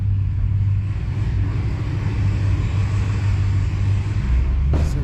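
A Dodge Hellcat engine on a dyno during a full power pull gives a loud, steady, deep roar that holds for the whole stretch, with a brief sharp burst near the end.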